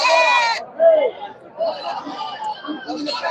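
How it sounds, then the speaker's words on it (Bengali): Black Bengal goats bleat at a busy Sunday goat market, with a loud close bleat at the start and further calls mixed into the chatter of many people talking. "সবগুলাই কিন্তু ব্ল্যাক বেঙ্গল জাতের ছাগল"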